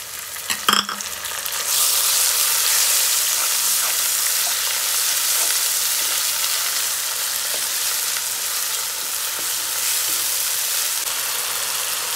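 Whole spices, ginger, cumin and garlic paste hit hot oil with a sharp crackle, then settle into a loud, steady sizzle that carries on alone without any voices.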